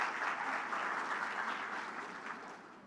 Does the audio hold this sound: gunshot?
no